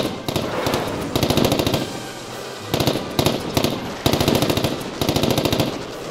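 A volley of gunfire in a video game, heard as loud, rapid machine-gun bursts that repeat in rhythmic waves with brief lulls between them, close and continuous throughout.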